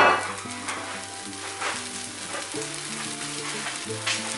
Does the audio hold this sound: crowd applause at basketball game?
no